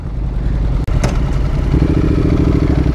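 A Honda NC750X motorcycle rides past close by, its loud engine growling with a steady throbbing note that swells as it passes.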